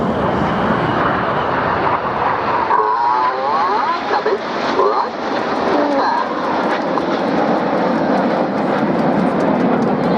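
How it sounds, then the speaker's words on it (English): A lone jet from the Red Arrows flies by at a Scottish airshow in the FlightGear flight simulator, a loud sustained engine roar filling the whole stretch, with a commentator's voice faintly underneath. "Here comes a lone jet."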